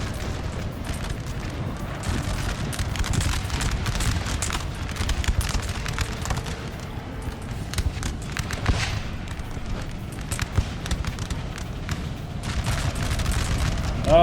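Musket volleys in the Napoleon Total War video game, crackling in dense, overlapping bursts with repeated deep booms across a sustained battle, some faint voices underneath.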